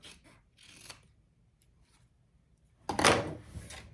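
Scissors trimming the fabric corners of a sewn clutch, a few quiet snips early, then a louder rustling cut close by near the end, in an otherwise quiet room.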